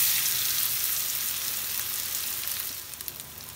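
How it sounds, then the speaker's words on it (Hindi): Grated mango fries in a pan over a low flame, giving a steady, close sizzle that fades slightly toward the end, with no voices. "गैस की फ्लेम बिल्कुल लो रखनी है, थोड़ी देर इसको हम भून लेंगे"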